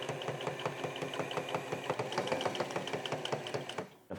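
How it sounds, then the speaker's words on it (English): A sewing machine runs steadily, stitching a yoke onto the back piece of a shirt, its needle clattering in a fast, even rhythm up close before stopping abruptly near the end. "And then stitch the yoke on to complete the back piece"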